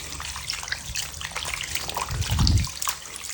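Water runs from a tap as hands are rinsed clean of hand-soap lotion, a steady splashing trickle with a brief heavier gush near the end.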